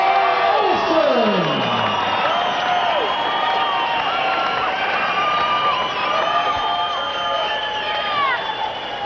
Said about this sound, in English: the fans here in Edmonton cheering on the pride of the province, Scotty Olson, as he takes a walk around the ring with his belt